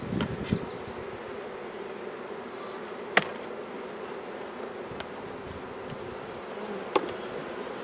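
Honey bees buzz continuously in a hive, a dense, even drone close by, broken by a few sharp knocks and clicks.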